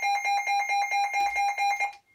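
A WR-120 weather radio sounds its warning alert, a loud, rapidly pulsing two-tone electronic beep repeating steadily for about two seconds before stopping.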